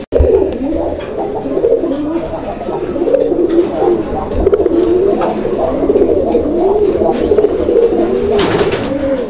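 Pigeons coo continuously at a pigeon market, a dense chorus of overlapping throaty calls up close, with faint background rustle and a brief clatter near the end.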